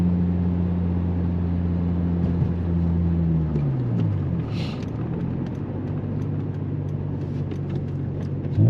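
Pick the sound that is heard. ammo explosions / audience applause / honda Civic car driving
honda Civic car driving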